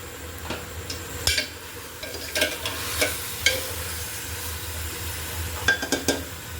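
Chicken sautéing and being stirred in a pan for a stew: a steady sizzle runs under scattered spoon scrapes and clinks against the pan, near and moderately loud.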